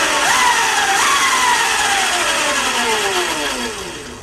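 A brushless motor on a DIY drift kart spins up under throttle, a loud whining tone that sweeps upward, dips and climbs again over a steady broadband hiss, with no voices.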